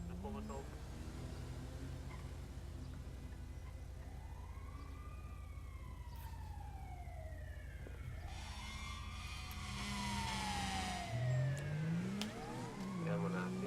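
An ambulance siren in the GTA 5 video game wails in faint, sweeping rises and falls beneath background game noise, with voices in the mix.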